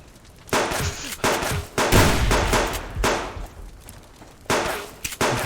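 Rifle gunfire in a video game comes as repeated loud bursts of shots and volleys that stop and start over several seconds, with echoing tails and no talk.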